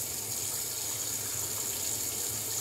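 Warm water runs steadily from a tap into a sink for shaving, a continuous close hiss and splash at an even level with no pauses or voices.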